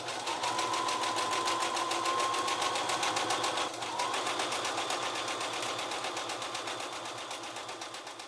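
A sewing machine runs steadily while stitching a double folded hem on a shirt made from an old tablecloth, giving a fast, even mechanical whir close by that eases slightly toward the end, with no talking.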